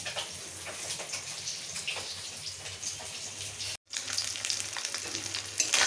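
Fish frying in a pan in a home kitchen, with a steady, close hiss of oil sizzling and popping, broken by one brief silent gap before the sizzle resumes.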